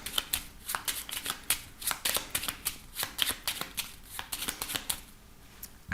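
A 32-card deck shuffled for a card reading, giving a long run of soft, quick, regular card flicks and riffles, close but quiet, with no speech.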